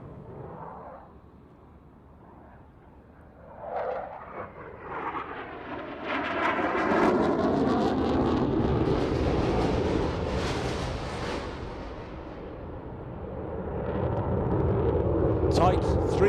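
A Eurofighter Typhoon flies an airshow display at the Farnborough International Airshow. Its jet roar swells from distant and faint to a loud, sustained, broad rush, then eases and builds again, while a commentator speaks over it throughout.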